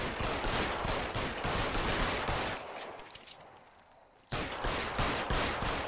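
Gunfire rings out in the LA Noire video game, loud rapid bursts of shots stacking into a fusillade, then a short lull before another sharp volley resumes.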